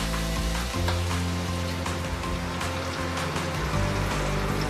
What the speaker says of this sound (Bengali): এবার এর মধ্যে আমরা পরিমাণ মতন জল দিয়ে দিচ্ছি।